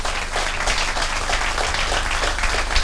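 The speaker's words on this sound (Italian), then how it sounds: "Ed ecco l'applauso per questi due campioni." An audience applauds two international billiards champions at a five-pin billiards event in Bibione, with steady, energetic clapping filling the hall throughout.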